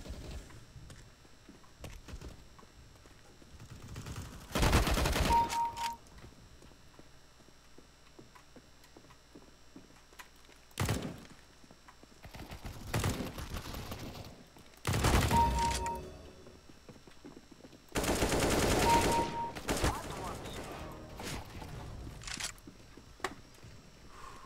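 Bursts of CS:GO gunfire come in several loud, dense volleys a few seconds apart, with quieter stretches of game ambience and clicks between them.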